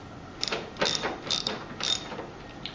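Ratchet clicking while undoing rusty nuts on a Mazda 626 license plate panel, several short bursts of close metallic clicks with brief pauses between them, no talk.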